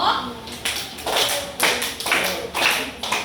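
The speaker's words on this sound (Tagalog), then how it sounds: "maaari nyo bang bigyan ng 5 palakpak ang unang grupo?" A classroom of grade-5 students claps for the first group, about five loud rhythmic group claps in a row, fairly close, with no talk in between.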